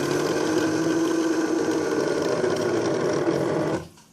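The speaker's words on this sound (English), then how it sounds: "it's cutting very slow because I've set it at a slow speed" A Cricut Expression 2 cutting machine slicing fabric at a slow speed gives a steady, loud mechanical whir and buzz that runs evenly, then stops abruptly near the end.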